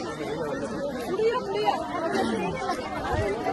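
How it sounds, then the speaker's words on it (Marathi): A crowd chatters at a busy temple, a dense, close babble of many overlapping voices that rises and falls without pause. "गर्दी खूप आहे"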